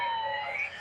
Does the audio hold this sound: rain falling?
no